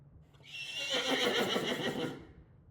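A horse named Chester gives a single drawn-out whinny in a ranch role-play video game, a bright quavering neigh rising and fading over about two seconds, clear and close with no talk.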